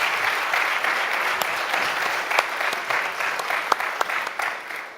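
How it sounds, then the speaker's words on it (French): Audience at a Symfony developer conference in Paris breaks into sustained applause, a dense steady clatter of many hands with a few sharper claps standing out, filling the hall without voices on top. "Donc ça mériterait de les applaudir tous un petit coup."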